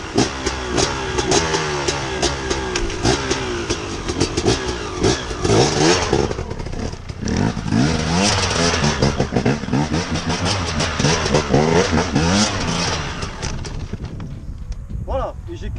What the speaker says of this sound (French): si la moto est totalement penchée et que j'appuie dessus, je vais la faire glisser